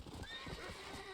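Horse from the video game Red Dead Redemption, with clip-clop hoofbeats and a whinny over a steady game ambience, close and moderately loud, with no talk.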